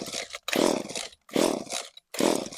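An Echo CS-3450 chainsaw engine, freshly fitted with a replacement carburetor, revs loudly at close range in three strong bursts separated by brief dips.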